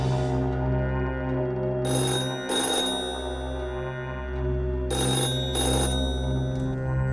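Two telephone ringing bursts in a Hindi horror story setting, each a pair of bright electronic rings over a steady low droning music bed, close and clear with no talk.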